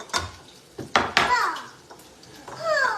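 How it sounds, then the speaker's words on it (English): A whisk beating cake batter of granulated sugar, self-rising flour and milk in a bowl, with a few quick wet clinks and sloshing strokes, close by and irregular, with no voice. "Try to whisk it and get all your little lumps out"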